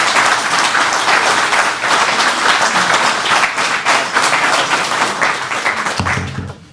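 Loud, dense applause from a business conference audience for a guest speaker, steady clapping that swells and then cuts off abruptly near the end.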